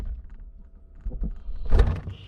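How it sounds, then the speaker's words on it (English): A fridge door thumps shut inside a Columbus 600 camper van built on a Fiat Ducato. The close, solid knock comes once near the end over a quiet background. "When you close the door"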